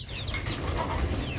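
Soft clucking and chirping from young turkeys, several birds calling over a low steady background.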